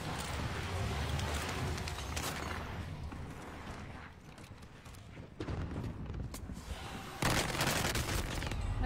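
Dense, continuous volleys of gunfire from a zombie-shooting video game rattle without a break, with sharper bursts standing out near the end.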